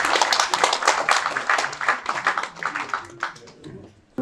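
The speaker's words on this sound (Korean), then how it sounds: "큰 박수로 환영해 주십시오." A crowd claps steadily to welcome a university professor emeritus giving a lecture at a Korean book launch event, a dense, fairly loud patter of hands that thins toward the end.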